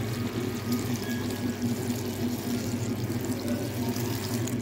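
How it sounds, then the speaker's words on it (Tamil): Water pours steadily over fresh green field beans in a pressure cooker, a continuous close splashing fill with a low hum beneath and no talking. "இப்போ பச்சை மொச்சை மூளுற அளவுக்கு தண்ணி சேர்த்துக்கலாங்க"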